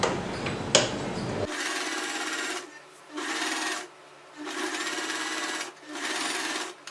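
A sewing machine stitching a churidar neck runs in three or four steady, close bursts of whirring, each a second or two long with short pauses between as the fabric is turned, after a brief rustle at the start.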